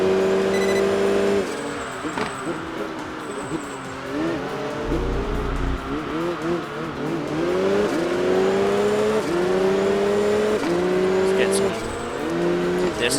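A Nissan GT-R race car in Enthusia Professional Racing drives continuously, its engine revving up and dropping through repeated gear shifts with occasional tire squeal, while someone talks over it throughout.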